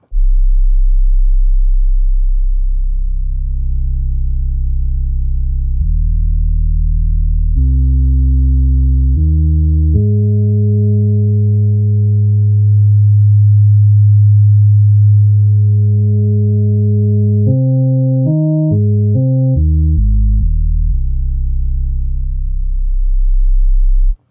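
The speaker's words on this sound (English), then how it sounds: "harmonic distortion is the way to do it, and I have created the solution using the mod wheel" A pure sine tone from a string library steps through held pitches as a mod wheel adds harmonic distortion, building upper overtones, then a quick run of rising and falling notes, loud and alone.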